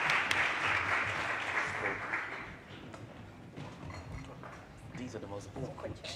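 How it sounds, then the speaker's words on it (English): An audience claps in a brief, thinning round of applause that fades after about two seconds, and talking continues over the tail. "Can we have a round of applause for my..."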